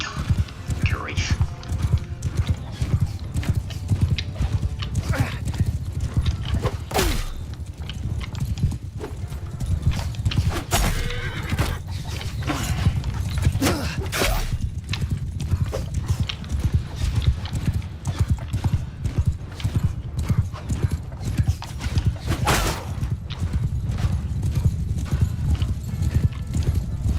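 Cavalry horses charging in the medieval battle game Mount and Blade II: Bannerlord, a dense continuous clatter of many hooves with occasional neighs and battle noise, loud and sustained throughout.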